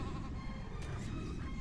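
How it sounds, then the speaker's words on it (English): Sheep bleating inside the video game LittleBigPlanet 2, a steady, fairly loud game sound with a wavering tone, heard on its own with no talking. "Poor sheep. Like, where do these sheep come from?"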